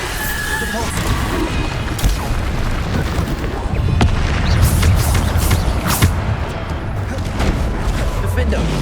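Repeated spell explosions and crashes in the Hogwarts Legacy video game, loud dense booms and impacts over a continuous roar of battle noise, with a voice shouting over the fighting.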